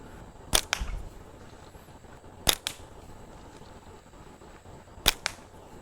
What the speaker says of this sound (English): all of our ammo is being caught in this net